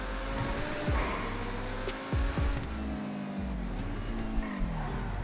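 A spawned car driving in FiveM GTA, its engine droning steadily with rising and falling revs and a few quick pitch sweeps as gears shift, moderately loud and close.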